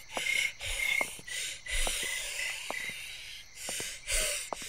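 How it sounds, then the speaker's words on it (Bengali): Raspy wheezing breaths and gasping coughs in a horror audio drama, rough rhythmic rasps repeating close and loud for several seconds with no speech. "লোকটা ঘড়ঘড়ে গলার কাশি আর হাফ মেশানো একটা অদ্ভুত শব্দ করতে করতে সিঁড়ি বেয়ে নিচে নেমে গেলেন"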